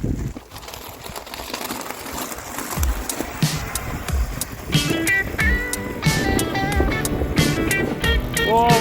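E-bikes, including a kids' Oset 12.5, ride along a logging road outdoors, producing continuous rolling tire noise and wind rumble. Birds chirp brightly over it in the later part, and the scene is fairly loud and close.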